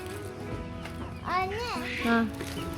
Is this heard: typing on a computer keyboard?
no